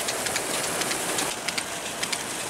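High-pressure water gushing steadily from a 15 hp solar-powered farm pump fed by 34 panels, a loud continuous broadband rush with splashing texture throughout.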